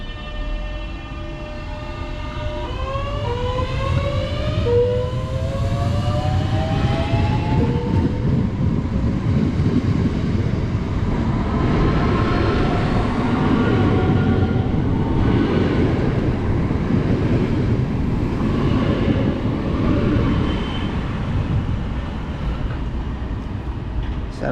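A Southeastern train pulls out toward London Victoria, rising whine of traction motors climbing in pitch as it accelerates, then a sustained rumble and rattle of wheels on track, loud and close, with faint voices in the background.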